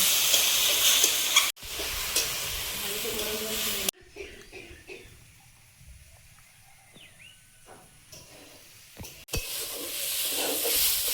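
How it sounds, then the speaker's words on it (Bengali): Dal and dalia (broken wheat) fry in a pan with bay leaf and whole cumin, giving a steady, loud hissing sizzle. It drops to a quieter stretch in the middle, with faint voices, then the sizzle swells back. "ডাল আর ডালিয়াটা দিয়ে একটু ভেজে নেব, একটু নেড়ে নেব"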